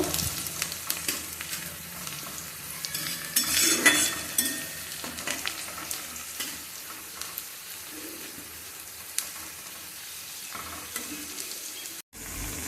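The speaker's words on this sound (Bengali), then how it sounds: "এখানে বিরিয়ানির আলুটা ভেজে নিচ্ছি" Potatoes fry in oil for biryani, a steady close sizzle with stirring scrapes and occasional utensil clinks, running on with a brief cutout near the end.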